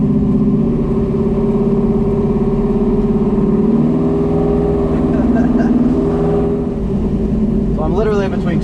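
A car fitted with a 4500 stall converter on a street road test gives a close, steady engine drone, its pitch drifting gently up and down as the throttle is lightly worked.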